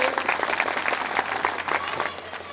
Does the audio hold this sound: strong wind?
no